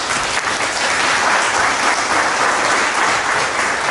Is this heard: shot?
no